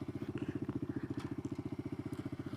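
A mini moto motorcycle being ridden, its small single-cylinder engine putting out a steady, rapid pulsing chug, close and fairly loud throughout.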